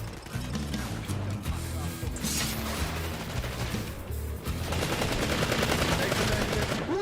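Dense, continuous gunfire in the sci-fi shooter game PlanetSide 2, with rapid automatic bursts layered over one another for the whole stretch, loud and busy with no pauses.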